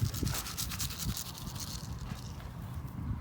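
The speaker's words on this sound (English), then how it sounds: "Okay, I'm going to add 1 cup of green sand." Green sand poured and sprinkled into a soil blocking mix for starting seedlings, giving a soft granular rubbing and scattering hiss with light scratchy texture, close and fairly quiet, with no talking.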